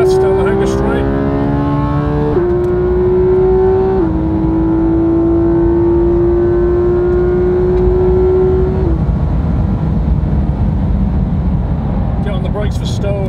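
Racing car in a driving game on Silverstone's Hangar Straight, engine revving loud and steady under hard acceleration, its pitch climbing through gear changes; speech-like tones mix with the engine note.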